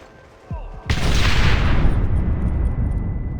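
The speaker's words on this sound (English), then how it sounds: "You and I'll provide the cover fire." Heavy gunfire in a Red Dead Redemption shootout covering a gate assault: a dense, sustained roar of rifle and pistol shots erupts suddenly after a quiet moment and keeps rolling, loud and close.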